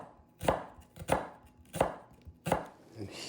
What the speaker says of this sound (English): here are the beautiful sliced onions